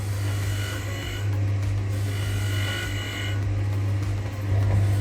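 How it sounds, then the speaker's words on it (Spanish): Stiff-bristle brush polishing cast silver jewelry, a steady scratchy rubbing hiss with a low motor hum beneath, continuous and close with slight swells in intensity. "Con un cepillo que está pasando, no es un paño, sino es un cepillo"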